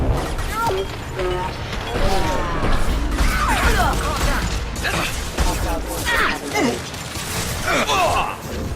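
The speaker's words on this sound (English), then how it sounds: "Concussive shot!" Concussive shot power from Mass Effect 2 fired amid dense sci-fi combat, with clanking mechanisms, thuds and crashes running continuously at a loud level while voices call out over the fight.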